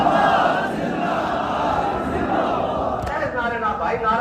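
A rally crowd chants religious slogans together, a dense roar of many voices sustained throughout and heard from within the gathering.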